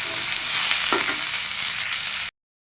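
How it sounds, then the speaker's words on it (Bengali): Potatoes and vegetable stalks fry in a pan, a loud, steady close-up sizzle with a spoon scrape or two, cutting off abruptly near the end. "খুব ভালো মতো আলু আর ডাঁটা ভেজে নিব"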